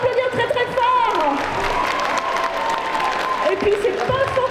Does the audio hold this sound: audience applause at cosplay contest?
yes